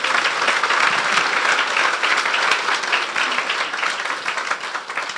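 Sustained applause from a church congregation at a Resurrection Day service, dense, steady clapping filling the room for several seconds without pause.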